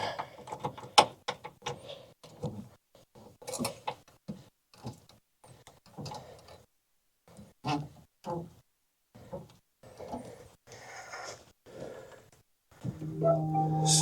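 DECKED drawer system hardware being tightened in a 2025 Ford F350 truck bed, with irregular ratcheting clicks and metallic knocks in short bursts, separated by quiet gaps near the microphone.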